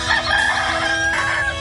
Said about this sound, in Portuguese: Acordar com os galos,